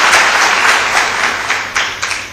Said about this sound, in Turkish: kendi için de güçlü bir alkış istiyorum arkadaşlar